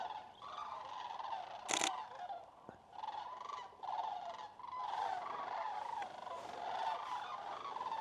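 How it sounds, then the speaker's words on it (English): Sandhill cranes call in flight over the Hiwassee Wildlife Refuge, a continuous chorus of rolling, rattling bugles at moderate distance, broken by one sharp click. "Here comes some birds right now."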